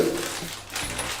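A metal washer is placed onto a bolt while a flat-roof garden shed is assembled, giving a single brief, light metallic clink close by.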